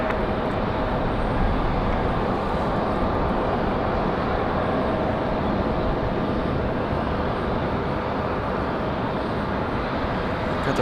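Steady, loud jet engine roar from a Republic Airways airliner readying for departure at Raleigh-Durham airport, an unbroken broadband rush with a faint whine.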